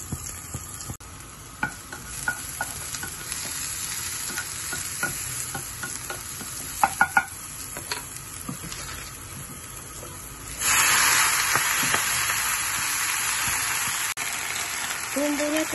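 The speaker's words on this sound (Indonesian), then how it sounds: "Lanjut kita tumis sayurannya." Vegetables stir-fry in a pan with a steady sizzle and scraping spatula strokes, the hiss swelling louder and brighter partway through as more heat or moisture hits the pan.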